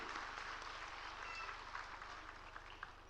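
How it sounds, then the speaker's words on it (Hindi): Audience applause at a school annual day celebration, a fairly faint, steady patter of many hands clapping in a large hall, continuing evenly with a low hum underneath. "जोरदार तालियां होनी चाहिए एवरीबॉडी।"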